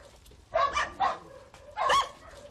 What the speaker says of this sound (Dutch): Je hebt nog redelijk veel honden, zie ik.